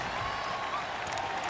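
Stadium crowd noise in the football game Madden NFL 19 makes a dense, steady roar of cheering and applause that stays loud and even throughout, with no distinct voices.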